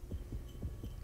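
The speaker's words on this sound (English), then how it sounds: "You can hear that little heartbeat getting louder and bigger" Heartbeat in the video game Depth, a low thudding pulse repeating about every quarter second, soft and muffled with a faint hum beneath, no voices.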